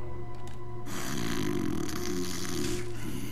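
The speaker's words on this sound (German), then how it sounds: "Schnarch nicht so laut, bitte." A sleeping guard snores in the stealth game Thief: Deadly Shadows, a steady, fairly close rumbling breath with a snorting texture that carries on through the whole stretch with no talk over it.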